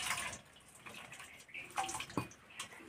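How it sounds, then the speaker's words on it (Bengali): Cabbage rinsed under running kitchen tap water, with a steady hiss and splash of the stream and irregular louder splashes as the head is turned and rubbed beneath it, close by. "কপিটাকে ধুয়ে নেব।"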